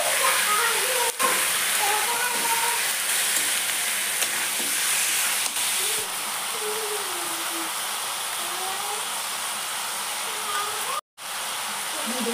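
Chicken pieces sizzle and fry steadily in oil with onion and garlic for a bamboo shoot chicken curry, a dense, close hiss with occasional stirring scrapes, while a voice speaks over the cooking.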